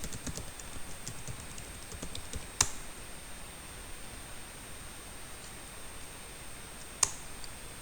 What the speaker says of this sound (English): Then type your password